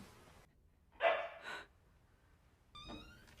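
A dog gives two quick barks in close succession, set against near silence, with a brief faint sound trailing afterward.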